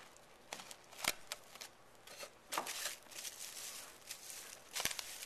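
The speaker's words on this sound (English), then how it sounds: "And then cover it with a piece of plastic wrap." Plastic wrap crinkles and rustles in several quick, crisp bursts with quiet gaps between them, close and faint, as it is stretched over a bowl of sweet dinner roll dough.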